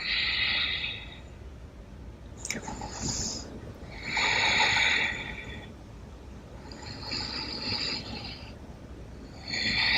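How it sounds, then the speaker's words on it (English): Slow, deep breaths during a gentle yoga session, long airy inhales and exhales rising and falling about every two seconds, close and fairly loud with no talking. "Nice deep breaths."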